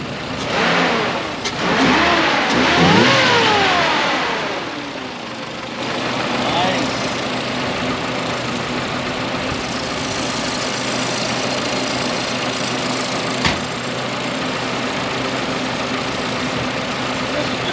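A Nissan Pathfinder with a swapped KA24 engine cranks and catches with a loud rising rev, then settles into a steady idle close by while people talk over it.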